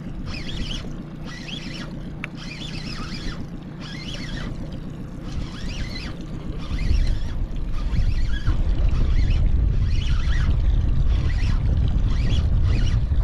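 Wind buffets a fishing boat out on the water, a rushing, gusty roar that swells and becomes louder and rougher halfway through, heard close with no talking.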